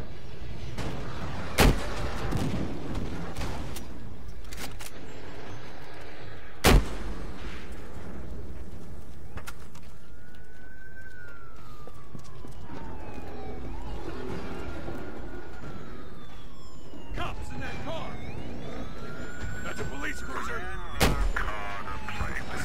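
Gunfire fills a multiplayer shooter match: a few sharp, loud shots ring out far apart, with muffled bursts and game effects in between and players talking over it.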